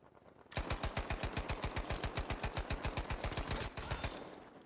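Rapid machine-gun fire in the video game Battlefield 5, a steady rhythmic burst of roughly thirty loud, close shots lasting several seconds before tapering off.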